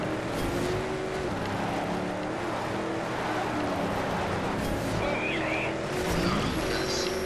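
A dirt buggy car in the racing game Trackmania Turbo drives with a steady engine roar and tyre noise, sliding as if drifting on its own, loud and continuous throughout.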